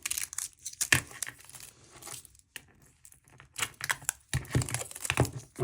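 Packaging for a titanium armor mod kit for a G-Shock GW-5000 watch is unwrapped, with close crinkling and tearing of plastic or paper in irregular bursts and brief pauses, no talking.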